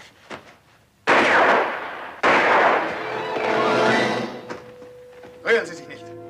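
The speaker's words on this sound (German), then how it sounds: "Hier sind zwei Schüsse reingefeuert worden." Two loud gunshots ring out about a second apart in a Western film, each a sharp blast with a long echoing decay, followed by quieter thuds and faint sounds.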